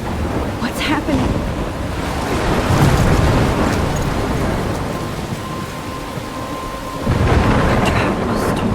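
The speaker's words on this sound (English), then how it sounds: "A tropical storm?" Tropical storm in Life Is Strange Remastered: a loud, continuous roar of wind, rain and surf with rumbling thunder building and swelling near the end, no voices.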